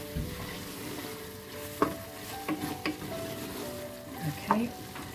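Dried fenugreek leaves being stirred into a simmering cauliflower and lamb curry, soft sizzling beneath several distinct scrapes and clinks of a spoon against the pot.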